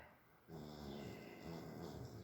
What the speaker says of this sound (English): the dog is so silly. She is quite the snorer.